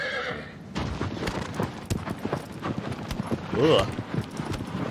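A horse in the video game Shadow of the Colossus clip-clops along with steady, close hoofbeats and lets out a whinny, while someone talks over it with a grunt of frustration.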